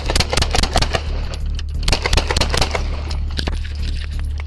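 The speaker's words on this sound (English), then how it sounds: "Shots fired. Shots fired." Gunfire in a police shootout: a rapid, irregular burst of many sharp cracks packed closely together over a steady low rumble, loud and continuous throughout.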